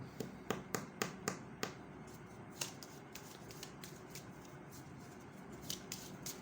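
Tarot cards shuffled close at hand, a run of crisp riffling snaps at first, then a softer, steady sliding patter, quiet and without speech.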